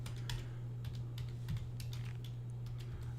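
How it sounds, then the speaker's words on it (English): Fingers tap quickly on a computer keyboard in soft, irregular clicks against a steady low hum, close but quiet. "So we're just typing in a bunch of information."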